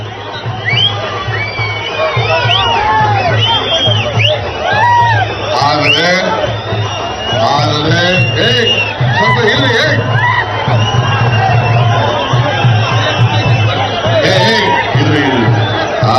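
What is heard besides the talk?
crowd cheering at political rally in Kolar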